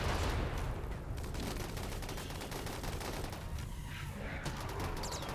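Sustained gunfire from a RimWorld battle at a dwarf colony killbox, dense overlapping rapid shots forming a continuous crackling roar that stays loud throughout with no pauses.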